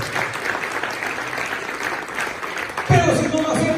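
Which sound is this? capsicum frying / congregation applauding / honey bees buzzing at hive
congregation applauding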